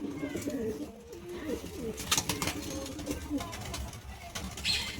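A pigeon coos repeatedly amid other birds in a loft, with low murmuring calls and occasional rustling or flapping, moderately close and steady throughout.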